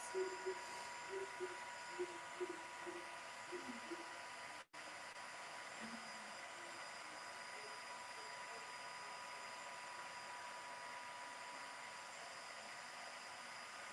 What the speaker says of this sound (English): Try not to put your heat tool too close to your embossing powder.